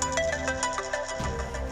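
A phone rings with an incoming video call, a melodic ringtone repeating its tune at steady volume for the whole stretch, with a sustained tone beneath it and no speech.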